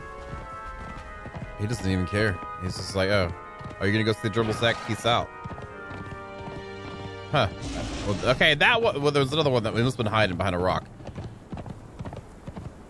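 Horse trotting in the video game Conan Exiles, a steady clip-clop of hooves that repeats in rhythmic runs, audible under near-constant talk from a man.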